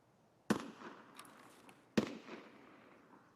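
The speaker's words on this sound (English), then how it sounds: "That's someone shooting an SVD that is not Sturman" Two distant SVD rifle shots boom in Escape from Tarkov, about a second and a half apart, each a sharp crack followed by a rolling echo tail, against a quiet background.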